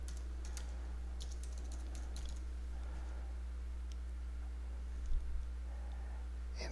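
A search is typed on a computer keyboard: faint, scattered keystroke clicks over a constant low electrical hum.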